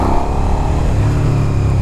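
A Suzuki SV 650 motorcycle fitted with a Cobra SC3 exhaust revs loud and close, its deep engine note climbing in pitch over a short burst of throttle.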